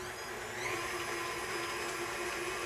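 An electric mixer beats a creamy batter with vanilla extract, a steady, close motor whine holding one even pitch throughout without a break.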